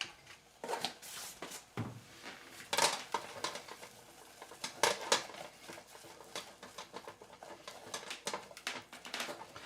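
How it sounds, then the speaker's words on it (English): A utensil clinks and scrapes against a bowl in irregular close strokes while baking powder is stirred into a falafel mixture, with sharp taps scattered between softer scraping and no talking. "We're going to stir that in."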